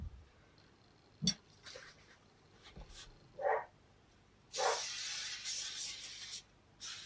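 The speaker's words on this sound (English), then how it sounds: "And then I'm going to put these on the floor and spray them." Items set on a floor are sprayed with a few short hissing bursts of a spray bottle, ending in a longer, louder sustained spray near the end; close and quiet, with no talking.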